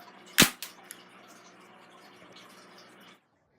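Airsoft pistol fired at an airsoft mask: one sharp, loud crack, then a couple of smaller clicks and a brief low rattle, then near silence.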